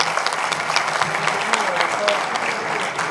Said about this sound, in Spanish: un fuerte aplauso más por su gran participación del día de hoy en este congreso